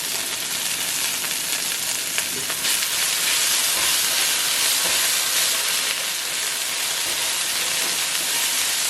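Red peppers sauteing in a hot pan while fava beans with eggs are being cooked, giving a steady, loud sizzling hiss that holds evenly and close throughout with no talking.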